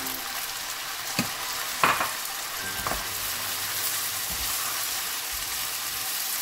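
Sausage and glass noodles go into a hot pot and get stirred: a steady, fairly quiet sizzle broken by a few knocks and scrapes of a utensil, with no one speaking.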